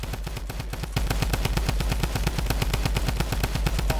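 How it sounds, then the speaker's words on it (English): Rapid automatic gunfire from the video game Fortnite, a steady close burst of evenly spaced shots that grows louder after the first second and keeps up without pause, with no talking over it. "Yep, we're getting shot at."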